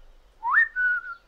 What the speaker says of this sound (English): such a colorful whistle